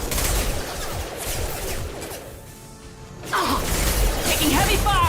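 Gunfire in the video game Mass Effect 2, with bursts of rapid automatic shots and impacts, a brief lull, then renewed heavy fire, with voices calling out over the combat.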